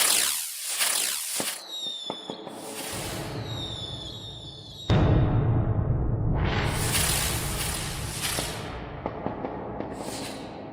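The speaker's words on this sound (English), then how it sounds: "Let's begin here with the fireworks." Synthesized fireworks from a sound effect plugin: a series of sharp, loud bursts and crackling explosions with whooshing launches. They come in close, separate clusters, the biggest blast landing mid-way and crackling trailing between hits.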